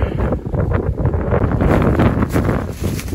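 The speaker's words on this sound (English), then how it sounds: "It's really windy up on top of this ridge here." Strong wind on top of a ridge buffets and roars across the microphone in continuous gusts, loud and close, with no other sounds standing out.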